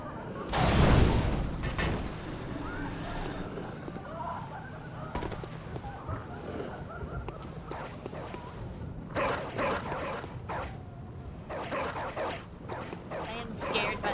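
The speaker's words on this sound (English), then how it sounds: "I am scared by the sounds of dogs." Several dogs bark in the dark fantasy video game Bloodborne: a loud, close burst opens, then repeated barks and yips sound in uneven bursts over continuous background game noise.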